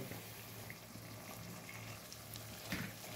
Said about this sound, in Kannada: ಸುಮಾರು ಹೀಗೆ ಒಂದು 4 ಮಿನಿಟ್ ಇದರಲ್ಲಿ ಎಣ್ಣೆಯಲ್ಲಿ ಬೇಯಬೇಕು ಲೋ ಫ್ಲೇಮಲ್ಲಿ